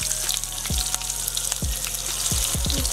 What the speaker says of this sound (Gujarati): તેલ થોડું ગરમ થાય એટલે તેની અંદર જીરું એડ કરીશું.